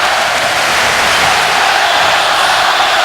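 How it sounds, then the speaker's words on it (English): A hockey arena crowd at the Wells Fargo Center during a Flyers versus Red Wings game roars steadily, a dense, loud wash of cheering and noise that holds without a break. "Now the crowd getting into it."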